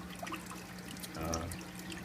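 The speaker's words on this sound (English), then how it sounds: "I've got all of my drain lines running to a common drip pan down there in the bottom" Drain lines from several fish tanks in a garage fishroom drip and trickle into a shared drip pan, with quiet scattered drops and a brief splashy pour near the middle over a low steady hum.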